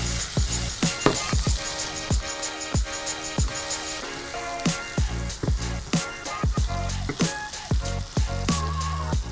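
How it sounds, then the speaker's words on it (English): Steak sizzles in a pan with a steady frying hiss while it is basted and turned, broken by repeated sharp clinks and taps of a utensil against the pan. Music plays underneath. "with a steak, it's all about basting and turning and basting and turning"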